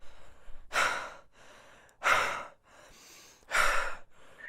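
A narrator imitates heavy breathing in a tabletop role-play scene, giving three loud, drawn-out breaths spaced evenly about a second and a half apart, with quieter breathing between them.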